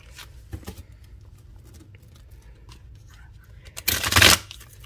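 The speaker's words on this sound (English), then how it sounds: "give it a better shuffle." Faint light taps and handling, then one sharp, close riffle of an oracle card deck shuffling near the end, lasting about half a second.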